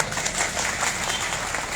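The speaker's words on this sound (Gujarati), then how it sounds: "ગમે હોય તો પાડો તાળીઓ બધા" Steady crowd applause at an outdoor political speech in Vadodara, a dense, even wash of many hands clapping that holds at moderate loudness from start to finish without any voice over it.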